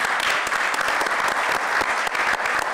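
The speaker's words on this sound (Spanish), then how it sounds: "Un aplauso al honorable." Loud, close applause fills a Panama municipal council session after a council member's election, a thick continuous round of many hands clapping with no pause throughout.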